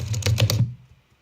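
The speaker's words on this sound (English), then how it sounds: "find the layer with the keyboard typing sound effect below" Rapid keyboard typing, a quick burst of several clicking keystrokes at close range for about half a second, then the sound stops and trails into near silence.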